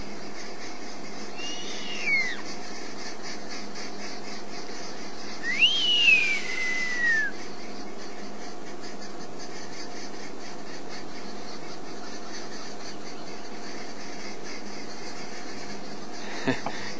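A giant eagle owl calls in the wild: a short whistle, then a louder, clear descending squealing call, with quiet bush ambience and no talking in between.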